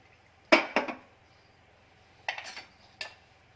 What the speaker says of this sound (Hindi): एक पैन लेंगे और यही जो ऑयल हमने फ्राई किया है, इसी में से ही हम 2 टेबलस्पून ऑयल इसमें डाल देंगे